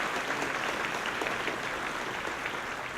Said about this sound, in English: Will you give them applause?